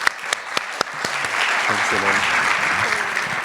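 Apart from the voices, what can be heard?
audience applause at public forum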